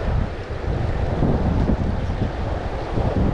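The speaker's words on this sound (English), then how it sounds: "The wind is now starting." Steady, loud wind buffets the microphone without a break while fly fishing for rainbow trout on a summer river, a broad rushing roar with no voices.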